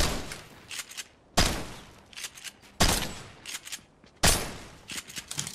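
Gunfire in the Fortnite video game: four loud bursts of rapid automatic shots, each sharp onset trailing into a decaying rattle, spaced roughly a second and a half apart.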